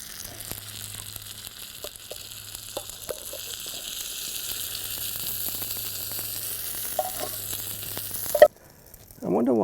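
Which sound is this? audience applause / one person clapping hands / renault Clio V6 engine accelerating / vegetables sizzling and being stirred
vegetables sizzling and being stirred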